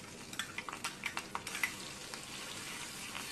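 Asafoetida, curry leaves, chopped green chilies and garlic-ginger paste sauté in a pan, with a soft sizzle and a quick series of stirring scrapes and taps over the first half.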